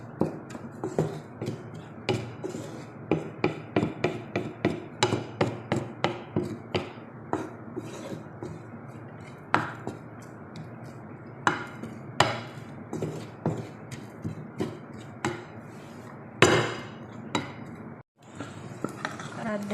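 Steady rhythmic clanks and scrapes of a spoon against a cooking pot as onions are stirred for Qatari beef majboos, repeated knocks at a brisk pace with a louder hit near the end.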